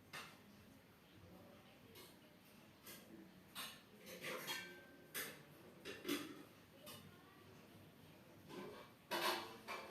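Sour spinach being stirred in a cooking pot, giving faint, irregular clinks and scrapes of a utensil against the metal, scattered quietly over a low background.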